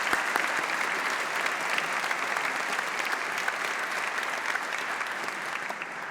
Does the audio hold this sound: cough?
no